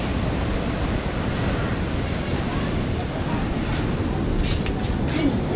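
Sea waves at a beach in Zambales, heard from a second-floor vantage point as a steady, continuous wash of surf mixed with wind buffeting the microphone, with no clear breaks between waves.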